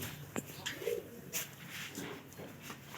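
Pigeon pair tethered to a tree outdoors, giving a few soft, low coos with a brief clap-like sound early on, fairly faint against light background noise.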